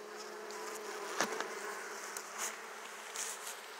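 Honey bees buzz steadily around frames pulled from a hive, a dense, even drone of many wings close by with a few louder passes as individual bees fly near.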